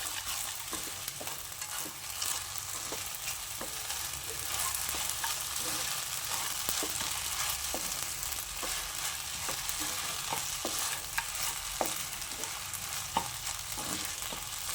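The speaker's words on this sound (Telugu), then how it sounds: "ఇప్పుడు రెండింటిని, ఆలుగడ్డని పల్లీల్ని వేసిన దాన్ని మంచిగా కలుపుకుందాం" Sago khichdi with potatoes and peanuts being stirred in a hot pan, a steady close sizzle and frying hiss with regular scraping strokes of a spoon throughout.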